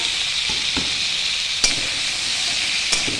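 Chopped capsicum, onion and chili fry in a pan with a steady, soft sizzle, while a few quiet stirring taps and scrapes land intermittently.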